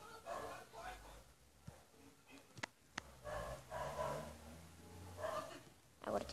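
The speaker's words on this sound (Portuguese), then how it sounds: "Odeio esses lobos." Minecraft wolves bark and yip in short, moderately near bursts, interspersed with sharp clicks, while a voice talks throughout.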